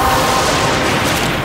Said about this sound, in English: That explosion.